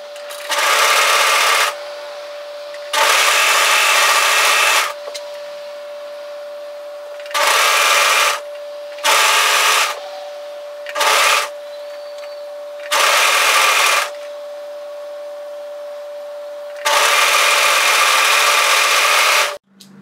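Repeated bursts of a sewing machine stitching a top seam down to the hemline, loud and close, with about seven runs of varying length separated by short pauses.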